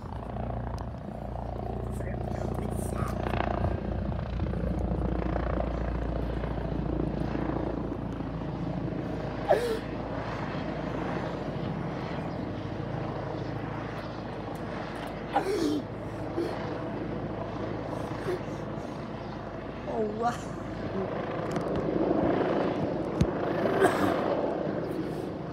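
A police Eurocopter EC135 T2+ helicopter drones continuously overhead around Bournemouth, its rotor rumble swelling and fading as it circles and hangs in place, louder when hovering, with outdoor background noise throughout.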